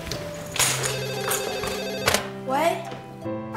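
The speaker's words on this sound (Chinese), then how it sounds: "电话在响。" A telephone bell rings indoors with a steady, repeated electronic trill, fairly close and loud, while a voice briefly speaks over it.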